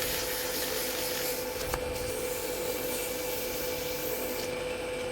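A wooden egg cup is sanded with 220 grit sandpaper, giving a steady, continuous rubbing hiss that stays close and even throughout with no talk.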